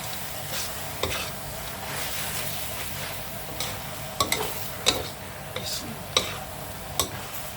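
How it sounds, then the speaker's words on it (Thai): Eggplant with minced pork and basil stir-fried in a pan: a steady sizzle with sharp spatula taps and scrapes at irregular intervals, close and fairly quiet. "ผัดมะเขือยาวใส่หมูสับ"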